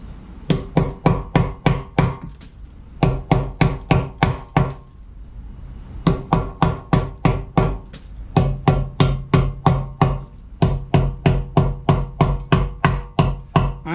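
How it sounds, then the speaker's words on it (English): A lightweight hammer taps rubber grommets out of a Jeep TJ valve cover in quick, even runs of sharp strikes, close and loud, with short pauses between bursts. "I'm using a very lightweight hammer, so it doesn't do a lot."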